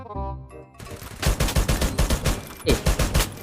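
Rapid automatic gunfire in the mobile battle-royale game Free Fire, loud and close, a dense stuttering burst of shots after a brief musical tone, with a short pause before another volley.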